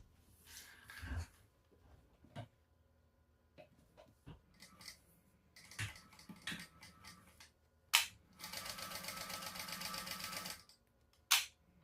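A sewing machine stitches and top-stitches the edges of a handmade bag, running in one steady, fairly loud burst of about two and a half seconds, with quieter handling clicks and rustles around it.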